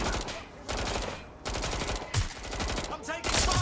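Rapid bursts of automatic gunfire in the Watch Dogs: Legion video game, loud and dense, coming in several separate volleys with brief gaps between them.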